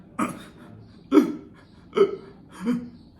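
A person imitates hiccups: four sharp, separate vocal hics spaced about a second apart, close and clear with quiet pauses between.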